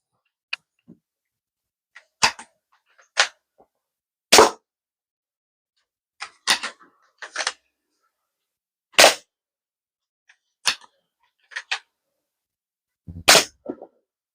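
A modified Parrot foam dart blaster tuned to about 140 fps fires in a series of sharp, loud, close cracks, single or paired, with irregular gaps of one to two seconds between shots.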